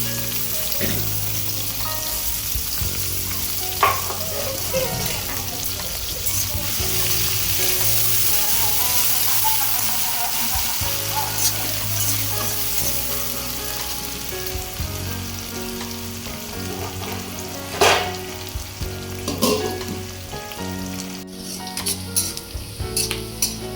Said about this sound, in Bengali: ভালোভাবে তেল গরম হয়ে গেছে, পেঁয়াজটা দিয়ে দেবো।